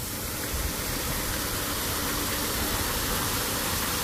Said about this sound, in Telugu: ఇజ్రాయెల్లో దిగినాక అసలు చాలా అందంగా ఉండే వాటర్ ఫౌంటైన్ చూశానంటే అది ఇదే అనుకుంటా